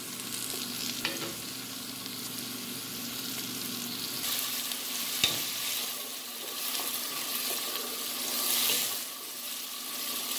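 Chopped onion sizzles steadily in a hot pan for a chicken with poblano strips and cream dish, with a spoon stirring and scraping now and then, plus one sharp clack midway. It is close and continuous, with no talking.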